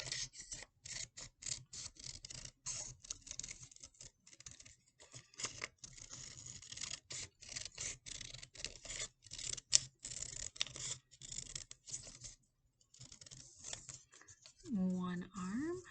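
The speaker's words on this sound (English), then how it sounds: "I'm going to cut that out of the way just so that it's easier for me to maneuver my scissors" Scissors snip through paper while cutting out a rod puppet, quiet, irregular clipping strokes coming in quick bursts, with a voice speaking briefly near the end.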